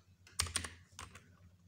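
A short run of keystrokes on a computer keyboard as a script name is entered in a terminal: a few soft, close clicks, quiet and with no voice.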